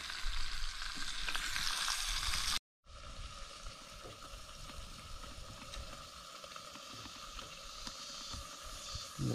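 Small fish fry in hot oil beside Lake Itaipu, a steady dense sizzle and crackle that runs throughout, close and fairly loud, with a brief cut near the start and no talk.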